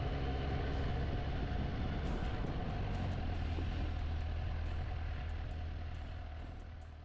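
Riding a 2023 Suzuki GSX S750 motorcycle produces a steady, continuous engine drone and road rumble that holds throughout and fades slightly at the end.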